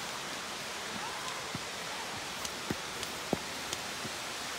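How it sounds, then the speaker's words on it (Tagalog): Tiffany Falls, a waterfall in a conservation area, rushes in a steady broadband roar heard from nearby, with a few faint scattered splashes and ticks over the continuous wash. "Yan po ang Tiffany Falls."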